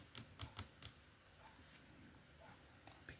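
A few sharp plastic clicks from the faulty switch of a broken Nintendo Game Boy Color, four quick clicks close together and then two fainter ones after a quiet pause, heard near and alone.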